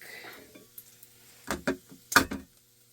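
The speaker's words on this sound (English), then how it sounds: "I'll mix these eggs up real quick." Eggs being stirred in a bowl beside cooking bacon and onions, a few quick scraping whisk strokes and taps against the bowl, close and fairly soft over a faint sizzle.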